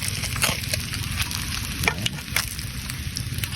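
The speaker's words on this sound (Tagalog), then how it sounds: "prito na ang ating gurami" Oil sizzles and crackles steadily as gourami fish fries in a pan, with sharper pops now and then and no talking.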